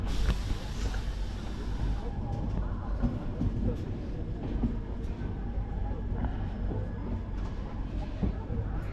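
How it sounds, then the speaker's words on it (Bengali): The Dhauli Express rumbles loudly into platform one at Puri station, steady low roar of wheels and carriages with occasional clacks, continuing without pause. "ট্রেন কিন্তু পৌঁছে গেল পুরীর এক নম্বর প্ল্যাটফর্মে"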